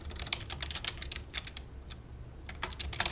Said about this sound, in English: I will type in the statement of the standard.